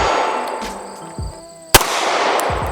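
A firearm fires one sharp, loud, close shot at targets on a shooting range, preceded by faint clicks and a dull thump, with a hissing wash of noise lingering before and after the report.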